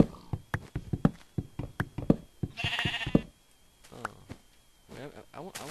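A Minecraft sheep gives a short, bright bleat in the middle of the clip, set among quick in-game taps and footstep-like clicks, with a voice talking near the end.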